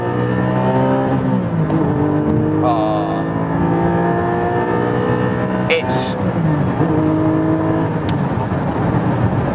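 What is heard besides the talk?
Porsche sports car engine revving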